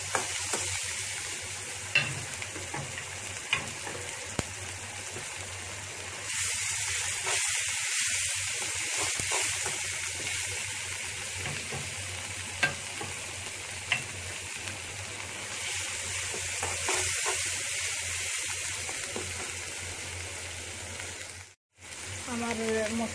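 Ground turmeric, chili and coriander powder fry in oil, a steady low sizzle and hiss with occasional stirring scrapes, close by, while a person talks quietly over it at times.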